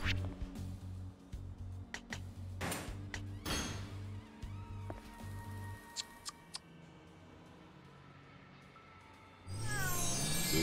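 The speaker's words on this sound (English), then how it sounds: "Cat." Synthetic cat meows and squeaky chirps from Yakuza 6, mixed with electronic tones and a burst of bright noise at the end.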